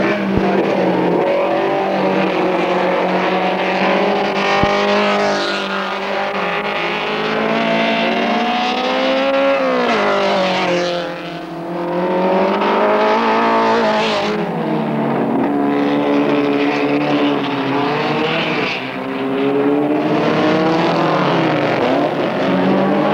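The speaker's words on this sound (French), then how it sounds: "jamais les Alfa Giulia ne rejoindront les deux Lotus, partis pour un véritable festival de glissade et de freinage" Lotus Elite and Alfa Romeo Giulia race cars racing at Montlhéry, loud engines rising and falling through gear changes and braking, with cars passing close over a sustained stretch.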